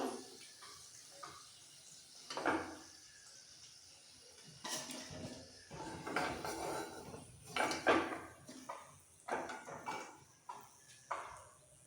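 A kadai (wok) is set down on a home kitchen stove after frying sweet corn pakoras, giving scattered metallic clunks and scrapes at moderate loudness amid faint kitchen clatter.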